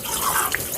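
Tap water runs steadily into a sink while dishes are rinsed clean during washing up, a close, continuous splashing flow with a brief drip near the end.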